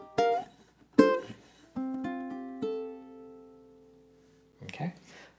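A ukulele plays the closing bars of a melody's second theme: three plucked chords in succession, then single notes ringing out and decaying, followed by a soft final strum, clear and close.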